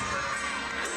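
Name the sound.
crowd cheering at a gymnastics meet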